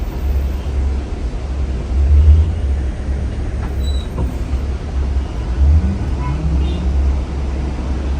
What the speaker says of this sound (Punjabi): ਬੱਸ ਦੇ ਵਿੱਚ ਬੱਸ ਇੱਕ ਗੂੰਜ ਦੀ ਆਵਾਜ਼ ਆ ਰਹੀ ਹੈ